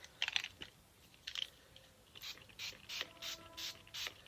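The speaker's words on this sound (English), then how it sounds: "Give it a nice spray." A handheld water spray bottle is pumped in a run of short, crisp bursts, faint and close, with a few separate squirts first and then a quicker series of sprays.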